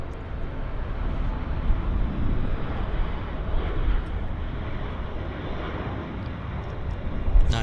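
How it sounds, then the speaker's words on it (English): A Cathay Pacific airliner at Vancouver Airport, heard as a low, continuous engine rumble with a touch of wind buffeting, fairly close and steady, with no one talking over it. "Look at this, Cathay Pacific."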